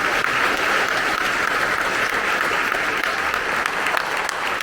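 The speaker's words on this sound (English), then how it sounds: "I think you deserve a round of applause." Sustained, dense applause from a concert audience at a community band's 50th anniversary concert, a steady wash of many hands clapping throughout, with no talk over it.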